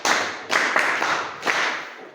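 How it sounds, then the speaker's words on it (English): A classroom of students clapping for a classmate: a short burst of dense, fairly close hand claps with a few louder accented claps, lasting about two seconds with no talking over it. "Can you clap hands for Bradley?"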